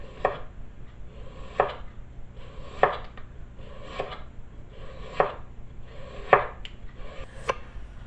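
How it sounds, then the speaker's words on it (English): A knife slices potatoes thinly for a gratin, landing in a slow, even series of about seven crisp chops on a board, each cut distinct and close. "Okay, so slicing your potatoes. You need to slice these quite thin."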